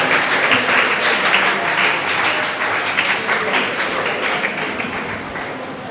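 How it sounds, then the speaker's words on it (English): An audience claps steadily for a school prize winner at a confidence-building program, a dense, continuous patter of many hands that holds for several seconds and tapers slightly toward the end. "Clap for her."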